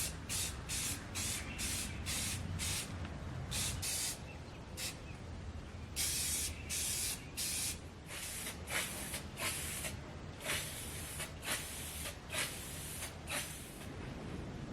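Repeated bursts of spray from a can or spray gun priming a restored cast-iron 'Columbian' 3.5-inch bench vise, a dozen or so hissing passes of varied length in quick succession, close and steady with no talk.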